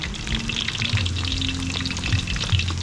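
Close, busy sizzling and crackling of food frying in oil, with occasional scraping stir sounds.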